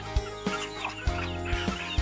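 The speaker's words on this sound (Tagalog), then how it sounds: "Pinakawalan din po nila yung mga manok." Chickens let loose on a farm in the Philippines cluck in short, repeated bursts, several birds close by and fairly loud, with sharp calls roughly every half second.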